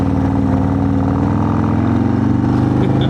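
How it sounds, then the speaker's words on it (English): A 2,506 cc motorcycle engine runs loud and close with a steady, throbbing rumble, its pitch rising slightly as it revs. "Man, this engine sounds insane."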